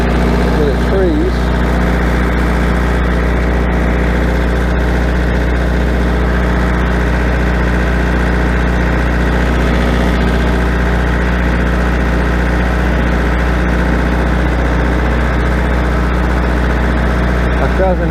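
A tractor engine idles steadily and close by among trees, a continuous low rumble with a faint mechanical whine that holds level for the whole stretch.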